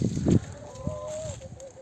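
A black hen and a Sultan rooster scuffle in a coop: a short loud flurry of thumps and flapping, then a thin, drawn-out call rising and falling, with a few faint taps after.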